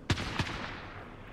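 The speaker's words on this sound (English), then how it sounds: "There's a lot of gunfire nearby." Two sharp gunshots in quick succession in the video game Call of Duty: Warzone, loud and booming, each trailing off in a short echoing decay.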